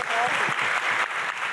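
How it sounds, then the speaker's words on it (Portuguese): An audience at a literary festival panel breaks into clapping, a dense burst of applause from a crowd in a hall with a voice speaking over it. "Aplausos."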